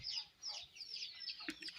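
An Aseel hen clucks in quick, soft bursts close by, faint overall, with a sharper squawk near the end.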